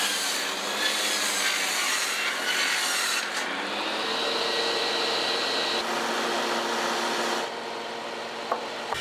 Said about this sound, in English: We're using the saw blade here to rip the posts down into two halves.